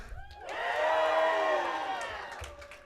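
An audience at a donor recognition and awards event in a Billings convention center lets out a blue and gold cheer, a swelling chorus of sustained voices that peaks and then tapers off.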